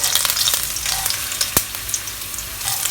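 Thinly sliced ginger pan frying in a wok for a ginger and spring onion shrimp stir fry, a steady close crackling sizzle with small sharp pops throughout, no talking.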